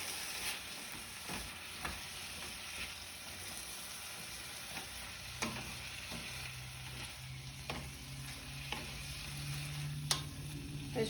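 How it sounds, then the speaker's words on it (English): Green beans frying in a pan with bacon seasoning, a steady low sizzle under occasional scraping stirs and light clicks of a utensil against the pan, close and fairly quiet with no talking. "Stir these green beans."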